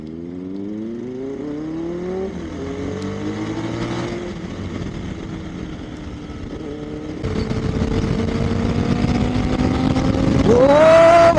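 A Benelli 600i and a Bajaj Dominar 400 motorcycle out on a Sunday ride, engines rising and falling through the gears, exhaust note growing louder and closer, ending in a hard rev with a whining climb.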